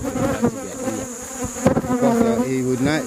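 Bees swarm around a traditional hive in a tree, a dense, steady buzzing drone close by with shifting pitch as insects pass near, and faint voices in the background.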